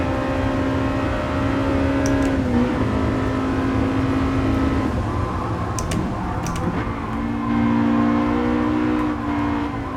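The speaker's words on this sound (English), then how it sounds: "The high revving 4-cylinder somewhat well replicated" Video game engine sound of a high-revving four-cylinder race car in Gran Turismo Sport, the pitch climbing and dropping through gear changes, loud and continuous.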